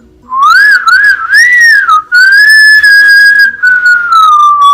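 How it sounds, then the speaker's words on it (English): A person whistles a loud, close, wavering melody, starting with quick rising and falling trills, then a short break and a long sustained tone that slowly falls at the end. "Can you whistle?"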